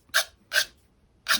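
An emery board sands a soft painted box with gentle strokes: three short, dry rasping passes, evenly spaced and close up, with quiet pauses between them.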